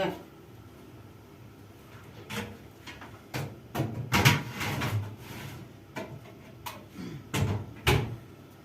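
An oven door bangs and clunks several times as eggplants are set inside for roasting, with scattered knocks and rattles in a quiet kitchen.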